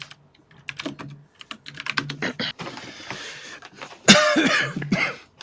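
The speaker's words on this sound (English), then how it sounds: "My cough started getting back to me at the end." A few short, harsh bursts of coughing from one person, loudest near the end, mixed in among clicky computer-keyboard typing at close range with no talk.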